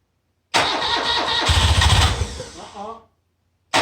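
An airhead motorcycle engine cranks and catches, then runs roughly for about two seconds before it cuts out. The sound is loud and close and ends with a short burst at the very end.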